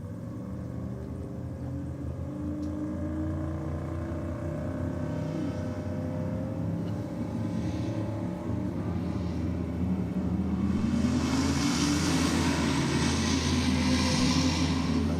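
A drag racing car accelerates hard down the track, its engine heard as a sustained droning roar that climbs in pitch and grows louder toward the end, with no talking.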